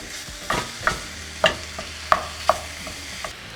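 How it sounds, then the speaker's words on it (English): Ground beef breaks apart in a skillet over high heat, giving a low sizzle broken by five or six sharp scrapes and knocks of a utensil at steady intervals, close and fairly clear, with no talking. "We're going to heat up our skillet over high heat, and once hot, we're going to add our meat. We're going to begin to break it down."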